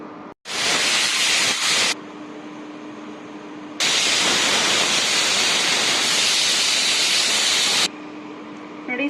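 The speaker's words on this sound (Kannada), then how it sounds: "ಇವಾಗ ಮೂರು ವಿಸಿಲ್ ಬರಲಿ" Loud, sustained hissing of steam venting from a pressure cooker whistle in two long bursts, with a faint whistle tone lingering in the quieter gaps between them.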